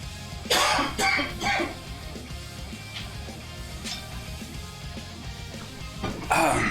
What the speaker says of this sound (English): I'm about to cough if I don't drink something.